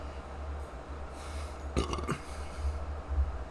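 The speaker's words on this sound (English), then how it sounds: "I got a burp." A single burp from a man reading scripture aloud, a short low rumbling burst near the middle with a quieter follow-up, close to the mic over a steady low hum.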